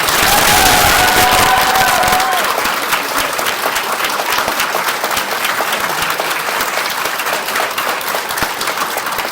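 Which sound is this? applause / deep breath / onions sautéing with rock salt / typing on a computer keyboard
applause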